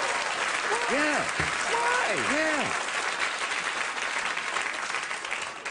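Late-night talk show studio audience applauding steadily and loudly throughout, a dense wash of clapping with a voice briefly speaking over it early on.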